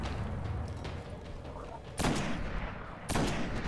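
Gunfire in the video game Destiny, with two loud broadband blasts standing out over a steady rumble of game action and background noise.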